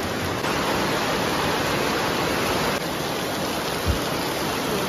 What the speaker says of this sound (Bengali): এখান থেকেও বৃষ্টি হচ্ছে।